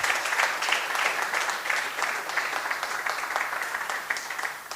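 Audience applause fills a hall at the grand opening of the Oxford Hindu Mandir and Community Centre, a dense, steady wash of many hands clapping at close range, holding for several seconds before easing slightly.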